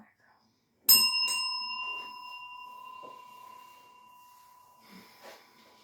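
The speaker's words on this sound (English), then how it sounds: "Oh, another bell." A single bell is struck once, its bright clear tone ringing and slowly fading over several seconds in a quiet room, with soft background rustles near the end.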